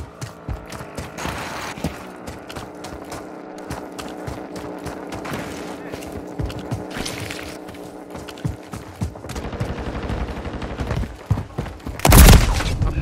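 Gunfire in Call of Duty Modern Warfare 3 ground war combat, irregular bursts and single shots crackling close against rattling mechanical clatter, rising to a loud blast near the end.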